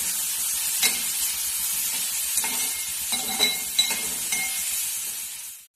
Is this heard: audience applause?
no